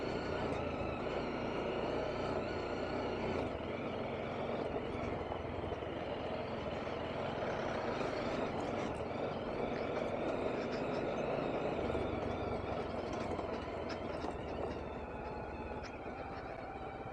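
A BMW G310RR sport motorcycle's engine drones steadily while riding over a rough, badly broken road, with constant low rumble and wind noise throughout and no talking.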